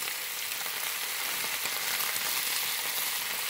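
Chopped tomato and onion frying with beef steak in a hot pan, giving a steady, bright sizzle and crackle that holds evenly throughout, close and fairly loud with no talk over it.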